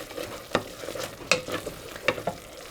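Italian seasoning cooking in a pan while bison meatballs are prepared, giving a soft, quiet sizzle broken by several sharp scraping stirs of a utensil against the pan.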